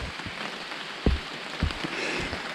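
Rain falls on a hiker's gear along the Long Trail, a steady hiss of rainfall broken by a few louder close drops and knocks.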